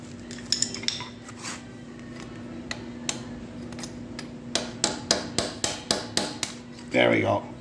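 Metal screwdriver clinks and taps against the steel rim of a Ford 8N tractor tire, with scattered knocks and then a rapid run of sharp strikes, over a steady hum, ending with a brief voice.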